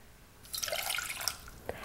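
Half a cup of water is poured into a measuring cup or pot while making cranberry syrup in a kitchen, a short bright splashing trickle lasting about a second, close and moderately loud.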